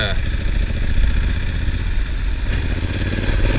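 Honda Africa Twin motorcycle engine running steadily while riding on Mount Hood, a loud continuous rumble throughout with someone talking over it.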